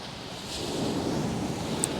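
Waves break and wash along the shingle shore of Chesil Beach in a steady surf roar mixed with wind, fairly close and with no one speaking.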